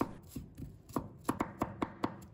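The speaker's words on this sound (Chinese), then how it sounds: "再改刀剁成蒜末。" Sliced garlic is minced with a knife on a cutting board, a run of sharp close chops that starts irregular and settles into a quicker steady rhythm, with no talking.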